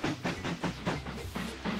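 A train in the video game Mashinky runs with a rhythmic chugging, steady puffs of hiss and clatter repeating about every quarter second, fairly quiet and continuous.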